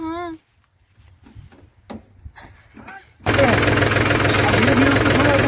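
A tractor engine cranks and catches after a few seconds of short voices, then settles into a loud, steady, rumbling idle that continues to the end.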